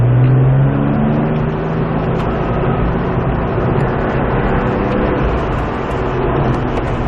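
Porsche 997 accelerating on the Mettet circuit, a loud, close engine drone climbing steadily and running continuously with no voices.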